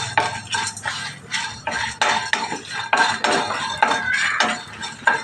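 Black pepper, cumin and fenugreek seeds dry-roast in a pan for a curry, heard as close, repeated metal scraping and clinking of a spoon stirring against the pan in uneven strokes, with no talking.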